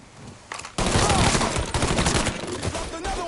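Rapid, dense gunfire in the video game Mafia 3, a loud sustained burst of overlapping shots kicking in abruptly after a brief quieter lead-in and continuing steadily to the end.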